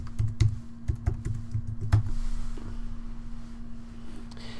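Someone types a login and password on a computer keyboard: a quick run of distinct key clicks in the first two seconds, then quiet with a steady low electrical hum.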